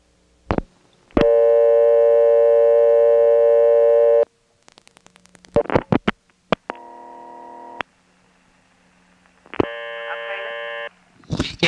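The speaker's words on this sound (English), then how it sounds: "From Kenley, here's a regular dial 0 call." Telephone call tones on a Carolina Telephone step-by-step exchange line in Kenly, North Carolina, for a dial 0 call: a long steady dial tone, bursts of dial pulse clicks, then short buzzing tone bursts and clicks, close and clear.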